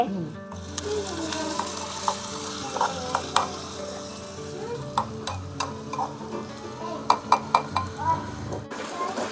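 Onion with turmeric fries in a pan over a wood-fired village stove, giving a steady close sizzle punctuated by repeated sharp clinks and scrapes of a spatula stirring, plus a low background hum.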